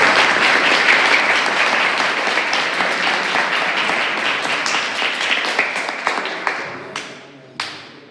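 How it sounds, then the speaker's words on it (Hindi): Audience at a Jain religious discourse applauding in a sustained dense burst of clapping that thins out and fades, ending in a few scattered last claps. "तो ताली बजाओ"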